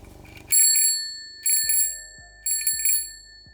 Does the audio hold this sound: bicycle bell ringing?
yes